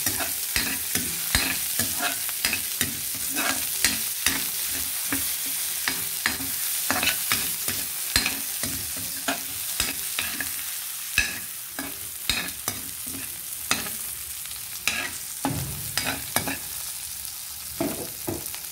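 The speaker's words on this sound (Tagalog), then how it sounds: "Sibuyas. I-brown din natin yan." Onions browning in a hot pan for afritada, a loud continuous sizzle broken by frequent sharp scraping strokes of a spatula stirring, close and without talk.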